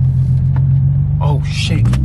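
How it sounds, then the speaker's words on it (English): A car rolls over a speed bump, a close low engine rumble with a brief bump, while a voice speaks over it. "I gotta go up this speed bump."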